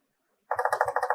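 Keys clack on a Macintosh Plus keyboard under repair, about nine quick, evenly paced keystrokes in a close, crisp burst after a moment of silence, with no talking.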